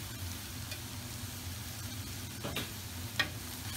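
Beef browning in a pan with curry powder, tomato paste and spices gives a soft, steady sizzle, with a couple of faint stirring scrapes and clinks near the end.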